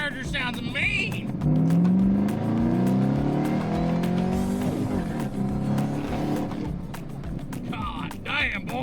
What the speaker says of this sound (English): Dude, that supercharger sounds mean.